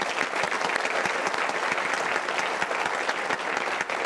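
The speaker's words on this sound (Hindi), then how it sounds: "ताली भाई।" A studio audience on the Bhojpuri edition of the KBC quiz show claps in steady, dense, continuous applause from start to finish, with no talk over it.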